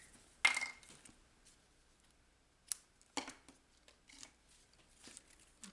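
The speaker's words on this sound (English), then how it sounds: "grab my scissors" A few short, crisp snips and rustles of paper being cut with scissors, sparse and close, with quiet pauses between them.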